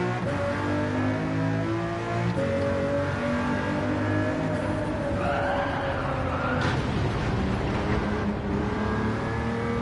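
A Pagani Huayra in Gran Turismo rolls along at low speed, its engine droning steadily with a few gentle rev rises and shifts, loud and continuous throughout.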